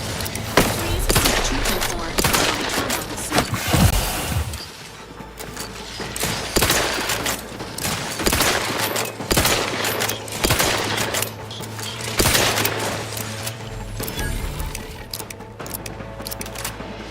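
Gunfire in The Outer Worlds 2, a loud run of repeated shots and bursts with short pauses between volleys over a low hum, and a voice talking at times between them.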